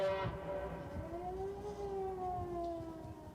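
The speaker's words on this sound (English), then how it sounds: "The fire siren calls men to duty." A volunteer fire siren wails over Oak Bluffs on Martha's Vineyard, its tone rising and falling in a long, steady sweep that carries over a muffled background.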